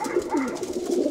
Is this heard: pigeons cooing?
yes